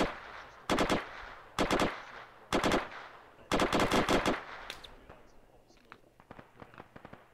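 Gunfire in the video game Arma 3 during an ambush on an armoured convoy: four loud bursts of rapid automatic fire, then scattered single shots and short rattles fading into the distance.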